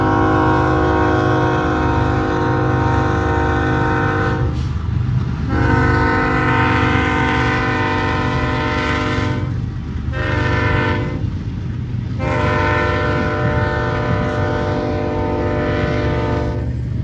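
A train passes close by with a long, loud horn sounding across the whole stretch, its steady harmonic blare broken by a few short gaps, over the low rumble of rolling wagons.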